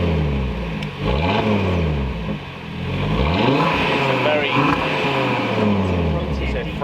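An Audi RS3 8Y fitted with an aftermarket exhaust revs repeatedly up and down, a deep throaty engine note swelling and falling in several blips close by.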